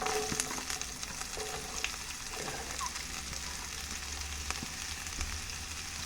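Carrots hit hot oil for Jamaican escovitch vegetable pickle, a continuous crackling sizzle with scattered pops and faint stirring, steady and close with no voices.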